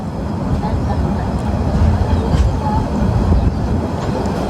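Probal Express train pulling into the new Islamabad railway station in Chattogram, a steady close rumble of rolling carriages with faint clatter throughout, loud and continuous with no talk.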